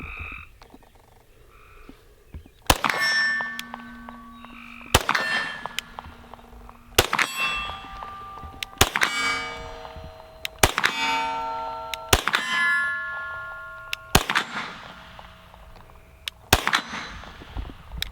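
Bullets strike steel popper targets outdoors, about a dozen sharp, ringing clangs spaced irregularly, each leaving a metallic tone that decays over a second or so, with faint background ambience between hits.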